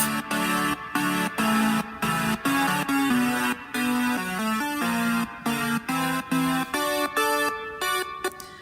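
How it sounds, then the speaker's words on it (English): A bright, buzzy GarageBand synthesizer lead from a remake of Sonic Mania's intro theme plays a steady rhythmic pattern of short repeated notes, fairly quiet and alone without any voices. "you accompany that with a bit more of a thicker sounding electronic lead"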